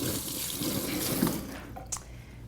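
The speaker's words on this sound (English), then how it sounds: "give my hands a little wash" Running tap water splashes steadily into a sink while hands are washed, a continuous close rushing flow with a few small splashes and clinks near the end.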